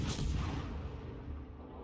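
Warship guns boom while firing at an enemy ship in a naval video game, a single deep, heavy blast that rolls out and fades over about two seconds.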